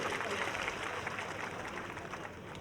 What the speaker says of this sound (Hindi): तालियों की गड़गड़ाहट के साथ में स्वागत करो